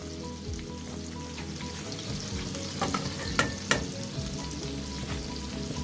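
Mushrooms frying in a pan of white sauce with parsley, a steady close sizzle and bubbling with a few stirring clinks and scrapes of a utensil against the pan.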